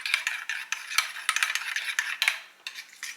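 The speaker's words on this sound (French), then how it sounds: "Et je mélange le tout." Soy cream stirred with lemon juice in a bowl, a utensil clinking and scraping against the sides in quick, uneven strokes, close and fairly loud with no talking.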